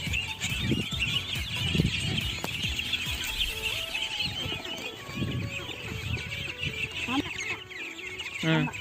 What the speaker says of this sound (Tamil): நம்ம வாத்துலேயே கினிக்கோழி, கருங்கோழி, வாங்கோழி எல்லாம் சேர்த்துருக்கோம்